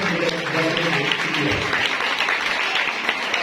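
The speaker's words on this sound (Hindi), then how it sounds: "एक बार फिर भरपूर तालियां।" Audience clapping at a Women's Day parish event, a steady wash of applause from a crowd indoors, fairly loud and sustained throughout with a voice briefly audible at the start.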